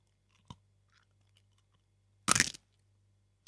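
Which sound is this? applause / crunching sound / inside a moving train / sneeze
crunching sound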